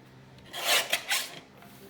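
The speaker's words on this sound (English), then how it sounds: "Go ahead and cut this top and bottom and some of my chimney off." Paper being trimmed with scissors or a trimmer for a Three Little Pigs themed mini album, heard as a few close, dry rasping cuts in quick succession that fade out within two seconds.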